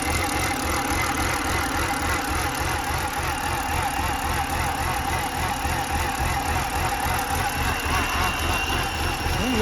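A 2011 BMW 328i xDrive engine runs rough at idle, a steady, close and loud mechanical drone with an uneven, slightly knocking pulse throughout and no speech.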